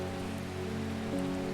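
Soft rain patters in the game Strange Horticulture, a faint continuous wash beneath sustained, steady musical tones, with no voices.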